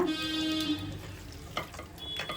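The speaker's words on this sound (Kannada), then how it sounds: "ಒನ್ ಅವರ್ ಆದಮೇಲೆ ಕೈಯಲ್ಲಿ ಒಂದು ಈ ಥರ ಮಿಕ್ಸ್ ಮಾಡ್ಕೊಳ್ಳೋಣ" Marinated chicken for green chicken biryani is mixed by hand, a soft, wet, squelching stir heard close over a constant tonal background hum.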